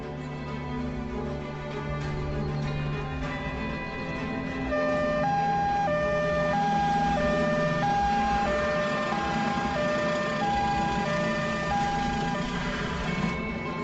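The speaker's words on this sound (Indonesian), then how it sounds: "Ambulans." An ambulance siren wails in a steady alternating two-tone pattern, loud and continuous, with road rumble beneath and no voices.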